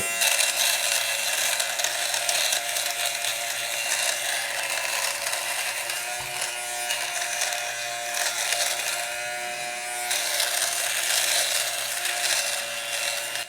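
A Philips fabric shaver buzzes steadily as it strips pills from a sweater, a continuous close whine with a faint rasp of blades against the knit and slight shifts in pitch as it moves, no voices.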